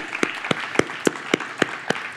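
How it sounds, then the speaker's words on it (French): Sparse applause at a disability summit plenary, a handful of sharp claps spaced out in a steady rhythm, close by, with no voices over it. "Bonne main d'applaudissements pour eux aussi."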